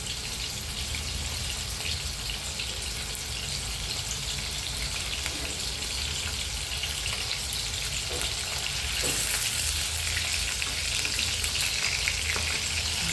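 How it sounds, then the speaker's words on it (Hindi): Chicken koftas fry in hot oil with a dense, steady crackling sizzle that holds evenly throughout, close and continuous with no talking. "पूरे में कोफ्ते फ्राई।"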